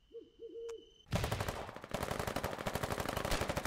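Rapid automatic gunfire in the war video game Foxhole, close and loud, starting abruptly after a short electronic tone and continuing as dense repeated bursts to the end.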